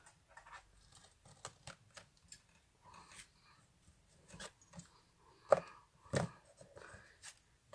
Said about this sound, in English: taking my scissors and cutting it off